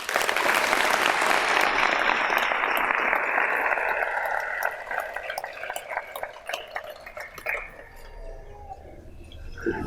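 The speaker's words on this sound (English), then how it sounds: "Can we give them a round of applause?" Crowd applause at a high school senior graduation ceremony, loud and dense at first, then thinning into scattered claps as it fades over about ten seconds.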